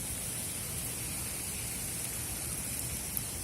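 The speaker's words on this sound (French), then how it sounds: "il pleut toujours autant" Steady rain falls in Osaka, a dense, even hiss that holds without letup and with no voices.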